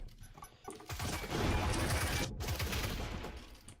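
Rapid gunfire in a competitive first-person shooter match, shots fired through walls, a dense fusillade of overlapping bursts that rises after a second and stays loud and sustained with no talk.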